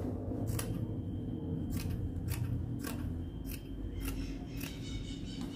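Scissors snip through the knit fabric of a pair of trousers with a steady series of sharp, close cuts spaced about half a second apart over a quiet background.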